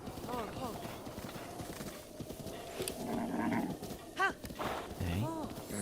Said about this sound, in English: A lot of wild horses.